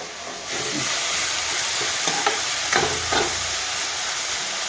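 Leafy greens, including chukkakura and gongura, sizzle loudly in a hot pan for pulihora, a steady hiss with a few scraping stirs of a spatula near the middle, close and without talk.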